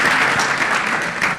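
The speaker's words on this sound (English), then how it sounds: "So a big applause for women in racing." Sustained, dense applause from an audience at a women in racing session held at the Dusit Thani, steady and loud throughout with no speech over it.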